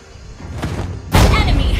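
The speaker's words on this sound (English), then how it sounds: "Your team destroyed a turret." A turret being destroyed in the mobile game Mobile Legends, heard as a sudden loud blast that lands partway through after quieter game sounds and then carries on as a dense roar.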